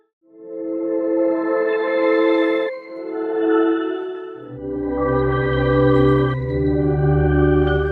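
Synth pad playing sustained chords, its filter gradually swept open by an LFO so the tone brightens over time, with a deep bass layer entering partway through; loud, continuous and alone with no talk.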